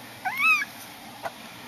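A cat meows once while being held, a clear close-up meow followed by a brief faint sound, in an otherwise quiet indoor setting.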